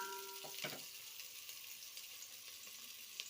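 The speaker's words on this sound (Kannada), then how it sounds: "ಸ್ವಲ್ಪ ಕರಿಬೇವು, ಫ್ರೈ ಮಾಡ್ಕೊಳ್ಳೋಣ." Onion and curry leaves frying in oil for a chicken curry give a faint, steady sizzle with a few soft pops and clicks, quiet and close.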